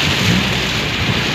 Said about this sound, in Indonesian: ketika hujan deras seperti saat ini